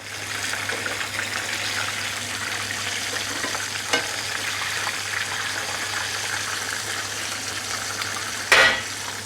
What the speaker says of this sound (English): So we're cooking those about 3 minutes per side. So we'll give them a flip.